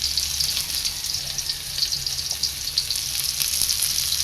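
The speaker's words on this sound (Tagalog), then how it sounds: "Igisa natin yung bagoong." Fish bagoong sautéing in a pan, a steady, dense sizzle of frying oil running throughout at close range with faint clatter, no voices.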